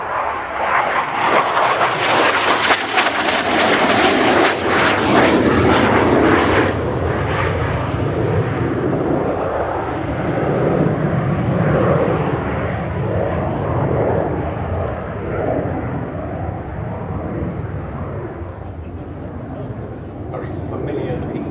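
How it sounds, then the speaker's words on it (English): A Spanish Navy EAV-8B Harrier II+ from 1996 roars through an airshow flying display at RIAT 2024, its loud, broad jet engine noise sweeping past and then lingering, with a commentator talking over the sound throughout. "this is the EAV-8B Plus model from 1996."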